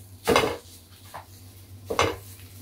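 Crushed chicken tossed with curry leaves and coriander leaves in a pan for spicy chicken kozhukatta, giving two sharp scraping clatters of a utensil against the pan with a quieter scrape between, close and without talk.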